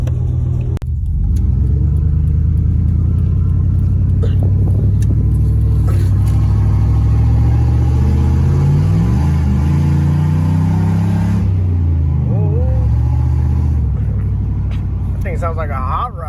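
A 1996 Chevy Silverado truck engine running after an idle air control valve repair, a loud, steady low rumble with some rises in revs, while someone talks over it.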